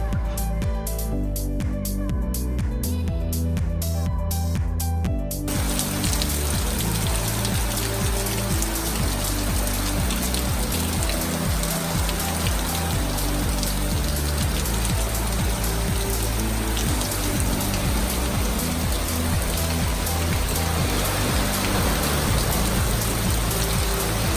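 Steady rain pours down outdoors, a dense continuous wash that stays loud and even from start to finish, with no one speaking.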